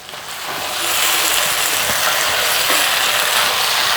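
Beef fry with garam masala and curry leaves sizzling in a pan, a loud dense hiss that swells in the first second and then holds steady, with no talking.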